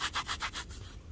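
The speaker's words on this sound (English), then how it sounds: "Give it the pants rub, see what we got." A crusty old New Zealand penny, dug from coastal mudflats, is rubbed briskly against trouser fabric in five quick scratchy strokes, close and fairly loud, fading to quiet at the end.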